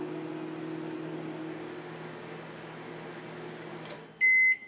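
A microwave oven heating a bowl of moistened seed starting mix hums steadily with a low drone, then finishes with a short burst of several loud beeps at the end.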